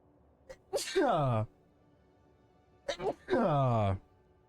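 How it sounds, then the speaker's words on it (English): Two sneezes, each with a short breathy build-up and a loud, voiced burst, close to the microphone. "Oh, gotta sneeze."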